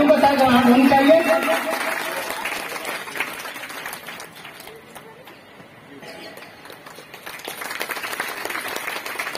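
An audience at a Baba Saheb Jayanti ceremony on 14 April claps during a garland welcome. The dense applause is loudest at the start, fades in the middle and rises again, with a voice speaking over it.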